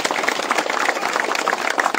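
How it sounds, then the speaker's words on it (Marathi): A crowd claps loudly at a Diwali lamp festival at Shivneri fort, a dense, continuous patter of many hands with no break. "ज्यांचे हात मोकळे त्यांनी जोरात टाळ्या वाजवा"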